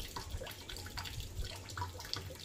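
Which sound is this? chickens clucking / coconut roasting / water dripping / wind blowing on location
water dripping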